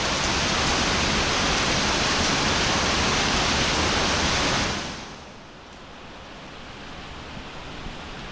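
Heavy rain on a rainy morning roars as a loud, dense wash of noise for about five seconds, then abruptly drops to a softer, steady patter. No voices.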